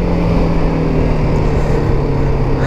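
A BMW G310R motorcycle exhaust drones steadily at cruising speed, heard close and loud under continuous wind rush, with no pauses.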